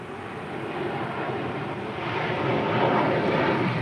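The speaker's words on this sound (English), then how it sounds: "That was American Airlines 2883 departing to Miami on an A321." An American Airlines Airbus A321 jet departing LAX for Miami, heard as a steady, broad engine roar that builds slightly louder toward the end, with no talking.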